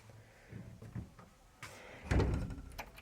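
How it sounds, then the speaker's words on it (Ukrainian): A house door leading from the bedroom out to the garden is opened, giving a soft clunk and rattle of the latch followed by a louder thump and sweeping movement, all fairly close in a quiet room. "як тут відкриваються двері"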